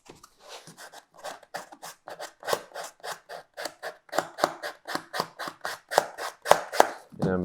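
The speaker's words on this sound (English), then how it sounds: "I'm going to try to avoid sanding this all the way down to foam and just focus on sanding this end." Hand sanding of sealed EVA foam for a cosplay piece produces a close, steady series of short rasping strokes in a regular back-and-forth rhythm that grows slightly louder and faster, with no talking.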